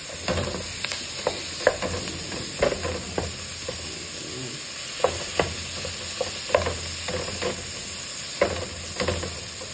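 Ground pork mince frying in a pan and being stirred, a constant close sizzle punctuated by repeated scraping clicks and knocks of the utensil, with no talking.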